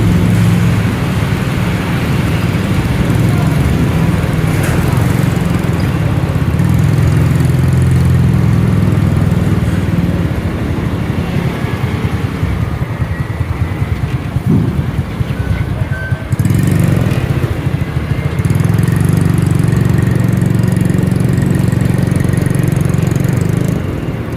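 A Montenegro Shipping Lines ferry's engine drones steadily during the crossing to Puerto Galera, a loud continuous low rumble with no break throughout.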